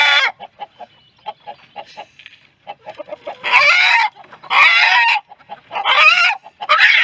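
Chickens, hens and roosters being caught by hand, soft clucking at first, then loud alarmed squawks and honking cries in repeated bursts, close to the listener.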